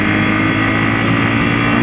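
A motorcycle rides along a main road in Portugal, its engine a loud, constant droning roar mixed with rushing wind noise, heard close and unbroken.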